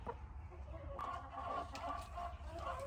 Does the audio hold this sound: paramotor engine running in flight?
no